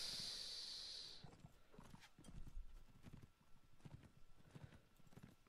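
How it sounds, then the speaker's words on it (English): Horses gallop in the Mount and Blade Warband video game, a steady muffled patter of hoofbeats that stays faint and low in the mix after a brief high hiss at the start. "Bunch of fucking horses running around."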